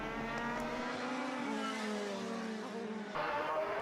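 Formula BOSS single-seater race cars at a circuit in Ireland, a loud continuous engine drone with shifting pitch as cars pass close, ending with a sharper burst of engine noise.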